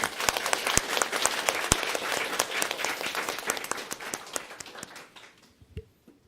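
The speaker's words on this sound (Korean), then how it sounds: "우리 어버이들을 향해서 감사의 박수를 한번." An audience claps for the parents, a burst of scattered, fairly close hand claps that thins out and fades toward the end.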